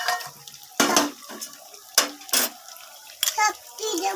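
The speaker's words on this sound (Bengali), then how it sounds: "পটলটা একটু ভালো করে ভেজে নিই।" Pointed gourd (potol) being stirred in a pan at home, with sharp metallic scrapes and clinks of a spoon against the pan in irregular bursts over quiet background, close by.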